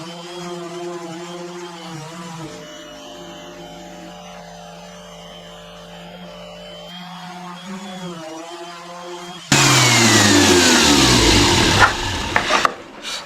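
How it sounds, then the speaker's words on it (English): A plunge router cuts into wood for a LEGO table with a loud, harsh whine that starts abruptly near the end. Before it comes a stretch of lower mechanical humming. "This is only my second time ever using a plunge router."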